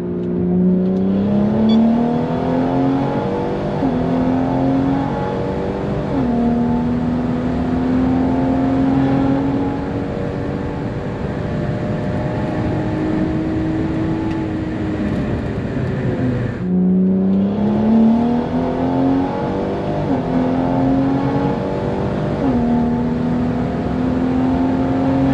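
A BMW 340i on 93 octane pump gas accelerates hard through the gears, engine pitch rising with each pull and dropping at shifts, loud and close from inside, repeated in two runs.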